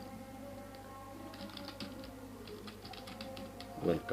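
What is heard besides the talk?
typing text on a computer keyboard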